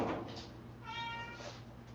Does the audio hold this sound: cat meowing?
yes